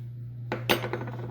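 Pumpkin pie spice being mixed into a pumpkin mixture in a bowl, a few quick clinks and scrapes of a utensil against the dish over a steady low hum.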